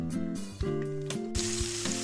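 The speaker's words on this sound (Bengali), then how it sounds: "এবার আরেকটু মশলাটা কষিয়ে নেবো" Spice masala sizzling in hot oil while being stirred for a Bengali bhetki fish curry, a close, steady frying hiss with scraping stir sounds and faint clinks.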